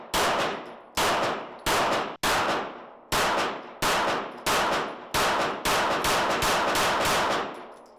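Rapid pistol fire from a Ruger handgun offered as a cheaper Glock alternative: about ten sharp, loud shots in a quick, slightly uneven string, each with a short ringing tail, close to the shooter.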